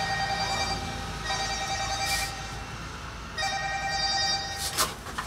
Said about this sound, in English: Somebody phone ringing